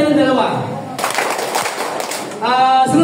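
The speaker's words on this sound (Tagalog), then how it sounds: "Pumalakpak po tayo ng dalawa." An indoor audience at a community talk claps in a burst of about one and a half seconds, a dense crackle of many hands set between stretches of a person speaking.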